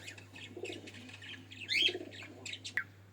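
A pair of red-necked pigeons sits on eggs and gives soft, low coos close by at a bird seller's in Khulna. Sharper chirps from other caged birds, including cockatiels, mix in over a steady background hum.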